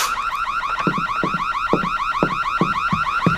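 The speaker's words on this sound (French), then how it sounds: "Pourquoi l'alarme s'est déclenchée?" A car alarm wails continuously in a rapid, warbling cycle, with a regular pulsing thud beneath it, loud and close throughout with no talking.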